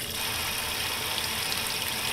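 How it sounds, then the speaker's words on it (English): Steady broadband rush of water pouring into a Sears Kenmore heavy-duty washing machine drum, continuous and fairly loud with no break over the whole stretch. "Water pressure feels about the same."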